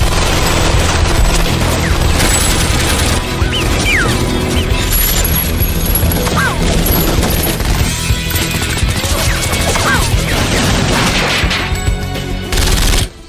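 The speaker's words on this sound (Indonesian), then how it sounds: "pertukaran tersebut berakhir dengan adu tembak" Gunfire in a film shootout at a prison, a dense, loud barrage of overlapping shots and bursts with crashing impacts and mechanical clatter running almost continuously.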